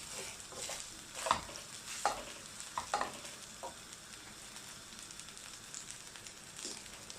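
Rice frying in hot oil in a pan, a steady soft sizzle broken by a few louder stirring scrapes and clinks, close by with no talking.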